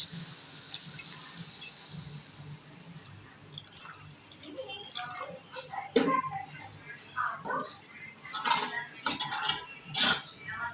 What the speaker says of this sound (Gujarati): હવે ચમચેથી હલાવીને